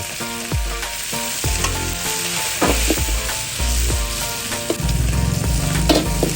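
Loud, steady sizzling and clattering from noodles being stir-fried with pork lard in a hot wok, with music playing underneath throughout.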